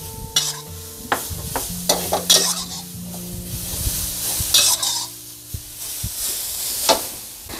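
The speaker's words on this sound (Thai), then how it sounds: "แล้วเราก็ใส่มะพร้าวลงไปเลยค่ะ" Grated coconut sizzles and hisses in a hot pan while a utensil stirs and scrapes, with occasional clinks of metal.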